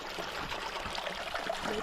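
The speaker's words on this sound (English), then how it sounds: "just got water flowing through here" Water flowing over big rocks in a mountain stream near Dragoon Spring, a steady close rushing wash that continues without a break.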